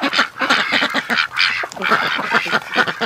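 Muddy ducks quacking in a rapid, overlapping chorus, loud and close, with no voices over them.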